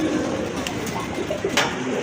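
Raj Golla pigeons coo softly at a pigeon sale, their low, muffled calls half-buried in a dense, noisy background with a murmur of voices nearby.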